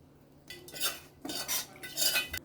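Curry leaves, crushed garlic, dried red chillies, asafoetida and onions tempered in hot oil get stirred into cooking paala kura pappu, a spinach dal, with three bursts of metal spoon scraping and clinking against the pan.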